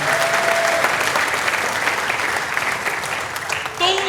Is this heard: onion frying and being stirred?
no